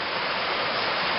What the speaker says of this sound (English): Creek's practically half flooded from the storms.